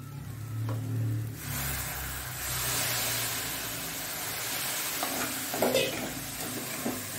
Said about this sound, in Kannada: ಒಂದು ಚೂರು ನೀರನ್ನು ಚಿಮಿಸಿಕೊಳ್ಳೋಣ.